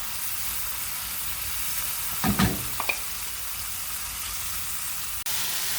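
Plantains fry in a pan over medium heat with a steady soft sizzle throughout. A few brief stirring or scraping knocks break in around the middle, and a single sharp click comes near the end.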